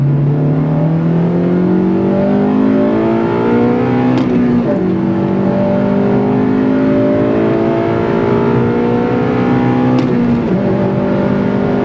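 An 8th-generation Honda Civic Si on 93-octane fuel at sea level revs hard under full throttle with VTEC engaged. The engine note climbs steadily through two long pulls with a brief break at each shift, loud and continuous, with no talking.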